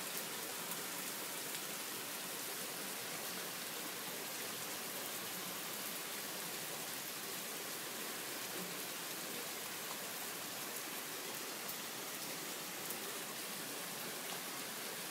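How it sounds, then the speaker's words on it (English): Steady early-morning rain falls outside a porch, a dense, even hiss of drops on surfaces running unbroken from start to finish with no voices. "I can't believe it's raining this early in the morning again."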